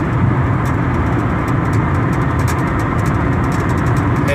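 A 1999 Ford Taurus cruises at highway speed with a steady, dense rumble of road and engine noise inside the cabin. Faint ticks and light bumps from the road surface sit over the constant drone.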